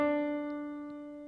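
A sustained piano note rings and slowly decays, with a second note joining softly partway through; a close, gentle whole-step pair with no voices.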